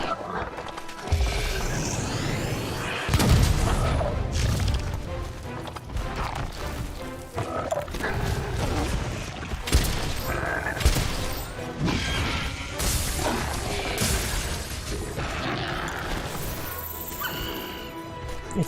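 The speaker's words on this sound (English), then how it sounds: "If I can cannon this thing to death, I will." A cannon fires repeatedly at a monster in the video game Monster Hunter World, producing heavy crashing booms and impacts layered over dense, continuous game action noise.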